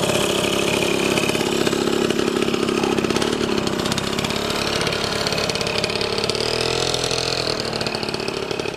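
A motorcycle engine runs steadily and loudly up close, idling with a constant rough drone that holds for the whole stretch, with no talk over it.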